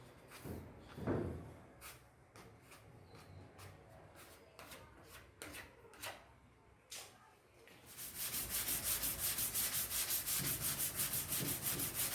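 Hand sanding of body filler on a car panel with 80 grit sandpaper, a run of short scratchy rubbing strokes that turns into a steady, louder continuous grinding rasp for the last few seconds, close up.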